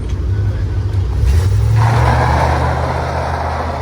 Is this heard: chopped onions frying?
no